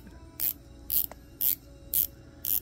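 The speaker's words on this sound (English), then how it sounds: "this bezel will turn" A watch bezel on a Kraken NH38 build is turned in five crisp ratcheting clicks, evenly spaced about half a second apart, close and sharp against a quiet room hum.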